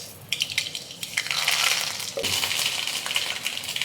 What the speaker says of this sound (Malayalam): വെളിച്ചെണ്ണ ചൂടായിട്ടുണ്ട്. കുറച്ച് കടുക് ഇട്ട് കൊടുക്കുക.